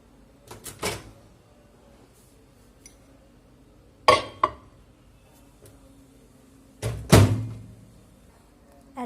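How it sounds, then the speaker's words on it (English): A mug pizza goes into a small oven: sharp thunks of the door and glassy clinks of the mug, in three separate bursts with quiet gaps between them. "It's ready to be put in the oven."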